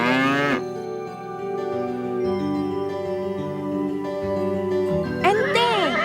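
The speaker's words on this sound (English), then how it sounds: "I can see the cow and its little calf in the cowshed." A cow mooing in a cowshed, in an animated farm-animal story, gives long, deep, droning moos that rise and fall, close and steady across the whole stretch, with no talking.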